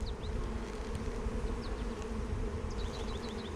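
Honey bees buzz around an opened hive during a split, a steady dense drone with individual bees zipping past close by.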